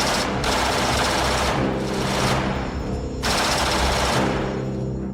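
Sustained automatic gunfire from the war film Full Metal Jacket comes in dense, loud bursts that rattle continuously, broken by brief gaps and layered over a rumbling battle mix.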